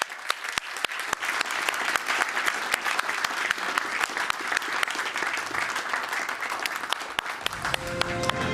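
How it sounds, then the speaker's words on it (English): Sustained applause from a conference audience at the GLOBSEC 2020 Bratislava Forum fills the hall, a dense, steady wash of clapping that carries on unbroken until a voice begins near the end. "Big round of applause."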